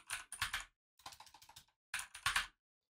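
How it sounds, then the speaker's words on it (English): Close computer keyboard typing in three short flurries of quick, light key clicks with brief pauses between them, alone in a quiet room. "we're going to type in npm init and then Playwright."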